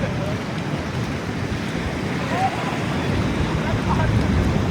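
Fast-running water and surf at a beach near an underrated Australian village roar as a broad continuous rush with wind buffeting the microphone, steady and close throughout.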